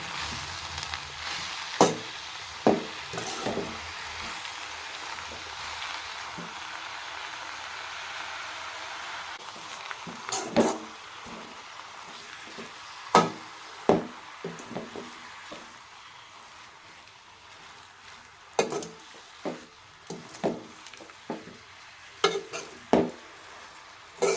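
Spinach sizzles quietly in a frying pan, broken by occasional clinks and scrapes of a utensil stirring it.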